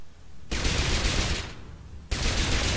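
Ship shooting blue bullets in LittleBigPlanet 2's co-op ship level: two sustained bursts of rapid gunfire, the first lasting about a second and a half, the second starting near the end, loud and close.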